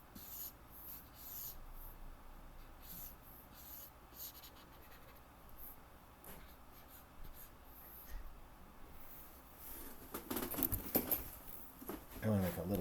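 A pen scratches and rubs across paper while sketching a small diagram of a car's rear axle, faint irregular strokes under quiet background noise.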